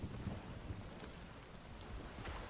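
Rain falling at night in the video game Warframe, a steady faint hiss of drops with low rumbling underneath, no voices.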